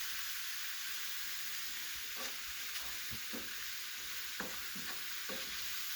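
Mushrooms and onions frying in a pan give off a steady close sizzle and hiss, broken by occasional soft clicks and light stirring taps, with no talking.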